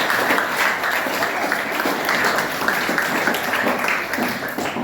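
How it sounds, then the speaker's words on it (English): A school audience at a quiz competition gives participants loud, dense applause, sustained clapping from a crowd throughout with no speech over it. "So a big clap for yourself, participants."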